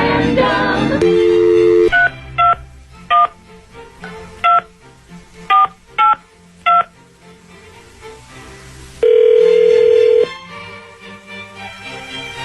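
Telephone keypad dial tones: a burst at the start, then seven evenly spaced short beeps, a longer steady tone near the end, all loud and clear with no talking over them.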